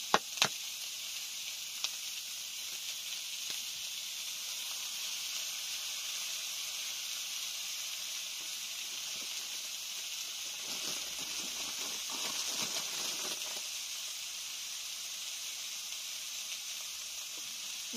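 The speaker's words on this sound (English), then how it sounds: "Right, I'm going to get that egg in next." Egg frying in a pan in a home kitchen, a steady, fairly loud sizzle and hiss that runs the whole time with a few faint clicks near the start.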